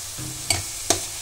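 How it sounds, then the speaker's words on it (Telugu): Fish frying in a pan on a gas stove with a low sizzle, and two sharp, close spatula scrapes against the pan about half a second apart. "సో చేపలని గ్యాస్ మీద పెట్టి మర్చిపోకూడదు. సో దీన్ని కూడా ఇలా మిక్స్ చేస్తూనే ఉండాలి."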